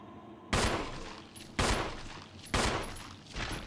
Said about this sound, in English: So I shot it 3 times.